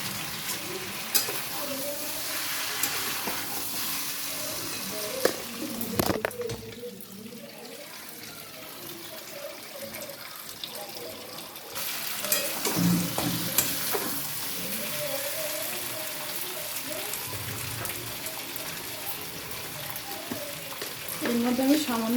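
Chicken sizzles and fries in a pan while being stirred, with steady frying hiss, scraping stir strokes and a brief run of tap water partway through, close and fairly loud throughout.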